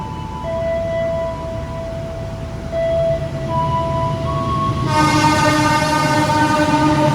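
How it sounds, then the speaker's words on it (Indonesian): A Lodaya train overtakes at Karanganyar, its horn sounding in long steady tones before the loud rumble and clatter of the passing cars builds and continues close by. "Saatnya disusul kereta Lodaya pagi."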